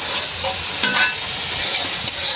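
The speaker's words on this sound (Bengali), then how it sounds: "আর মশলাটা একদম ভাজা ভাজা করে ফেললাম" Whole spices frying in hot oil in a pan while being stirred, a steady close sizzle with a brief scrape of the spoon near the middle and no voices.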